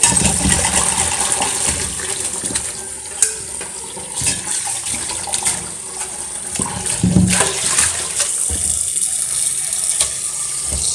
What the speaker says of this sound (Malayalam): ഇതാണ് ഞാൻ വെള്ളത്തിൽ ഇട്ട് നല്ലതുപോലെ കഴുകി